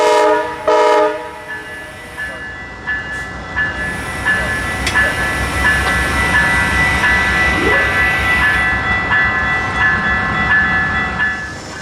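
An Amtrak train hauling a dead-in-tow GE locomotive passes close by a railroad crossing, its horn blaring in loud sustained blasts over the heavy rumble and clatter of the cars.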